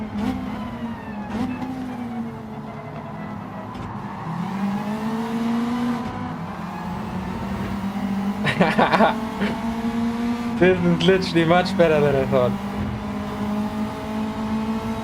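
Racing car engines in Gran Turismo 7 at Road Atlanta drone and rise in pitch as they accelerate and shift, with someone talking over the steady engine noise.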